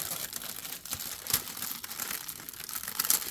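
Wet strength tissue paper crinkling as a large unfolded sheet is handled, soft close papery rustles in irregular bursts throughout, quiet and without talking.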